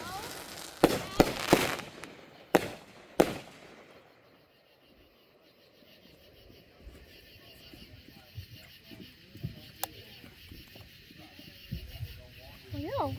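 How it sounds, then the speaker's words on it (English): Fireworks being lit and set off outdoors at a family gathering: several loud, sharp bangs and crackles burst close together in the first few seconds, then the scene settles into quieter open-air ambience with faint scattered sounds. "I'm filming the people that are lighting the fireworks."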